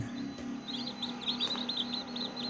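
Native chicken chicks chirp in a rapid series of high, repeated peeps close by, alongside a low steady hum.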